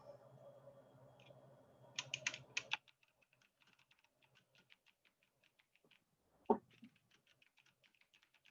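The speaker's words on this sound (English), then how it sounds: "type your rewording of that last sentence into the chat" Someone types on a computer keyboard during an online English class: a steady patter of soft, close key clicks after some brief noise at the start.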